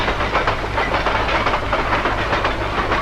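A moving train rolls steadily and loudly throughout, with dense broadband rumble and rhythmic clatter of the wagons on the rails.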